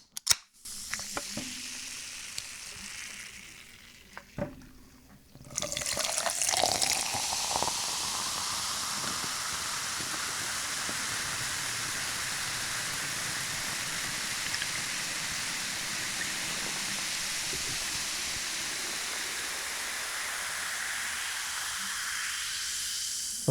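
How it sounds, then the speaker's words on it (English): Pepsi soft drink poured and fizzing, a few faint clicks and a can opening, then a steady loud carbonated hiss and sizzle that settles into an even fizz for about twenty seconds, with no talking. "it sounds to me like you're pouring a soft drink right there"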